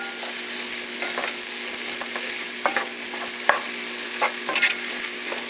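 Mixed vegetables for dal are stirred in a pan with salt, chili and turmeric: sizzling frying under a spoon scraping and tapping in irregular strokes, with a few sharper clinks near the end and no talking.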